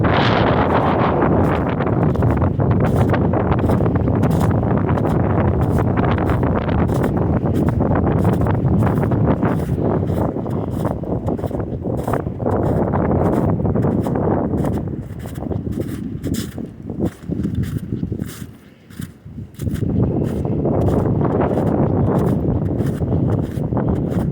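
Strong wind buffets the microphone on a mountain trail on Peters Mountain along the Allegheny Trail corridor, a steady loud roar with gusting rustle that briefly drops into a lull near the end before surging back.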